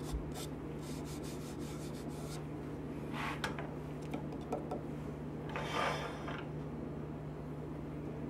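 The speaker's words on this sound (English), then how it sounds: "It's going to require some sanding." A thin apple wood bowl is sanded as it spins on a lathe, giving a soft, continuous rubbing rasp over a steady motor hum, with a few slightly louder scraping passes along the way.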